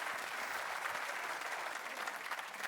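An audience at a comedy show claps in a steady, even burst of applause that holds at a constant level from start to finish.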